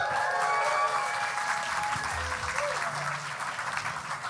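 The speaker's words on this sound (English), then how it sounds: "One more large round of applause for everyone watching on streaming as well." An audience at an indie game awards show applauds continuously for several seconds, a dense, steady clapping that stays loud throughout with faint crowd noise underneath.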